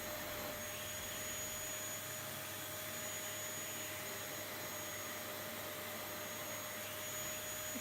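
A Kenwood Xtreme Cyclone vacuum cleaner runs with a steady, even whooshing roar and a thin high whine, close and constant throughout with no voices.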